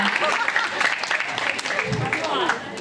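An audience claps for the cast of a Bengali stage drama, a dense, steady patter of hands with a voice speaking over it.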